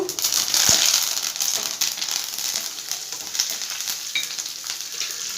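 Curry leaves and chillies sizzle in hot oil: a bright crackling hiss, loudest at the start, with stirring and a few sharp pops, close and continuous.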